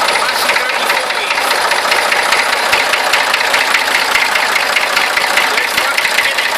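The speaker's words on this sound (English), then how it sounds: "And we're driving our Masseys. Massey 35." A Massey Ferguson 35 tractor engine runs steadily on a drive through hilly country, a loud, close, continuous chugging with a rough knocking texture that never lets up.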